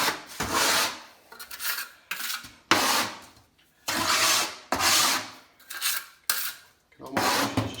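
A steel trowel rasps and scrapes as ARDEX A 46 repair mortar is worked onto a kitchen windowsill, the strokes coming in a steady series of close, fairly loud passes with short pauses between them.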